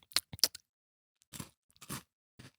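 Biscoff biscuits crunch loudly up close in a few sharp bites, with separate crunches spaced through otherwise quiet air.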